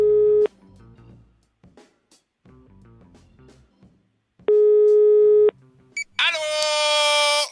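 A telephone call goes out: several short tone pulses under quiet background talk, then a loud sustained busy tone, ending in a burst of bright electronic tones as the line connects.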